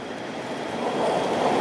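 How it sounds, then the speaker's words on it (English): A Toronto subway train rumbles beneath Yonge Street, heard through a ventilation grate as a broad steady roar that swells slightly louder toward the end. "that's the subway. It's running underneath our feet."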